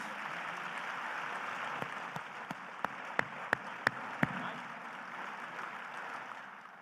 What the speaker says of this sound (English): Can you give them a round of applause, please?